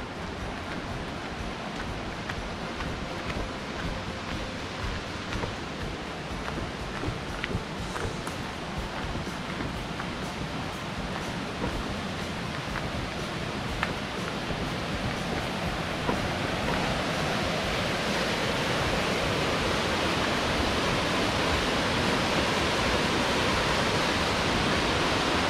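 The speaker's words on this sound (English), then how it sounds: "So this one's called the Araluen Cascades." Araluen Cascades waterfall in Finch Hatton Gorge, a steady, dense roar of falling water that stays constant and close throughout, growing slightly fuller toward the end, with no voices.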